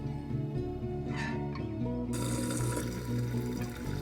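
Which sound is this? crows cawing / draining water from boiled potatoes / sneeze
draining water from boiled potatoes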